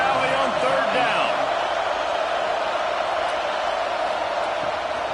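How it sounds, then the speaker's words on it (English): A big stadium crowd roars steadily on third down at Happy Valley in a PS5 college football video game, a dense continuous wash of noise with a play-by-play voice briefly audible early on. "Here comes the noise from this big crowd in Happy Valley on third down."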